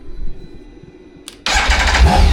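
A BMW K1600 B motorcycle engine with a freshly flashed ECU idles, then bursts into a loud, sudden rev close by that stays roaring to the end.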